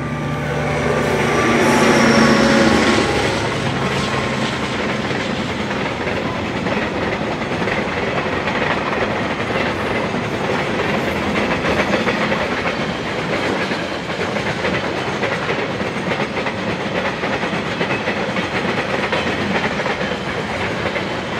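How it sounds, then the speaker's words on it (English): A heavy KiwiRail freight train rumbles steadily past in Tauranga, New Zealand, with a continuous roar and rhythmic clattering of wheels, loud and close throughout. "9509 with the Kinleith-bound 496"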